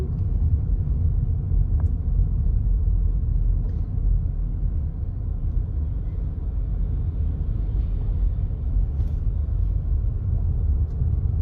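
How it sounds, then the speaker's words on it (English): A car with engine problems passing outdoors near a climbing spot: a continuous low, rough rumble with wind buffeting the microphone, steady for several seconds with no clear voices. "So, a car with problems apparently."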